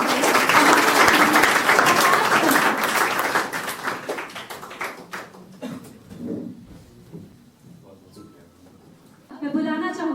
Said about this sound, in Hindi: आप लोग एक बार जोरदार तालियों से स्वागत करें।